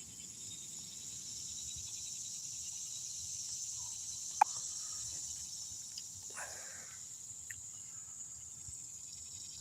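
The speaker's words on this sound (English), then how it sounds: "I hear them cicadas kicking up." Cicadas drone in a steady, high, continuous buzz that holds throughout, with a single sharp click and a brief soft rustle partway through and no voices.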